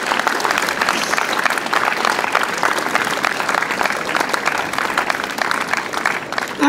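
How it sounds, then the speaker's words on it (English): A crowd at a building dedication ceremony applauds steadily, many hands clapping in a dense, even wash of sound that continues throughout. "Let's give a nice round of applause to all the teachers in this building"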